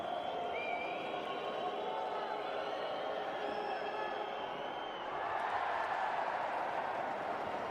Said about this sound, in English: Crowd reacts to the missed free throw from Sanchez